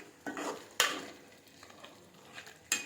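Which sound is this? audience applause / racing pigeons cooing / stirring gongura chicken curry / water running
stirring gongura chicken curry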